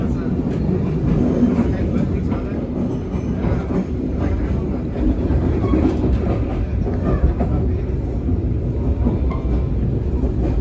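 Sri Tanjung economy-class passenger train hauled by locomotive 203907 running on rails near Surabaya Gubeng, giving a steady loud rumble with faint clickety-clack throughout, heard from inside the carriage.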